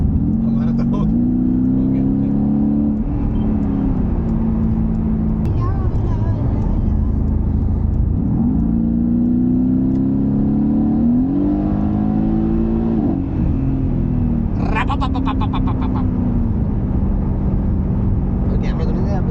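A Mercedes-AMG GT 63 engine revs repeatedly in rising and falling pulls, loud and close, with several voices talking over it throughout.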